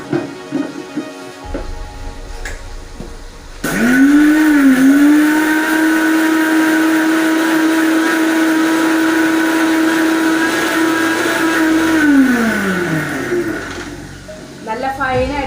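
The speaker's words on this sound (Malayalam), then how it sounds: "കുറച്ച് വിനീഗർ ചേർത്ത് അത് നന്നായിട്ട് അരച്ചെടുത്തിട്ട് വരാം കേട്ടോ" An electric mixer grinder grinds a paste with added vinegar in a home kitchen: after a few seconds of quiet talk it starts abruptly, then whines loudly and steadily for about eight seconds before winding down, with a voice briefly heard.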